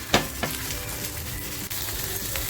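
Surmai fish wrapped in banana leaf fries on a low flame, giving a gentle steady sizzle with a few light taps and pan knocks, close and without speech.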